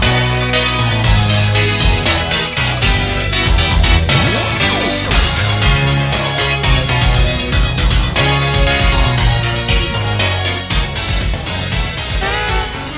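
A town theme from Pokemon Sword and Shield, with saxophones, plays loud and dense throughout: steady beat, layered brass and synth melody, no talking.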